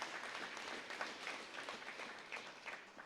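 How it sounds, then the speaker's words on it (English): A crowd applauds speakers at a DUNE beam signing event, a steady, dense wash of many hands clapping at moderate distance without any talk over it. "let's give one more round of applause to our speakers for their inspiring remarks"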